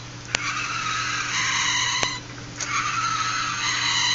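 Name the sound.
fischertechnik model gears moving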